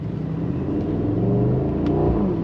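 The twin-turbo V8 of a 2025 Mercedes-AMG SL63 S revs with a deep, throaty rumble, rising in pitch as it accelerates close by.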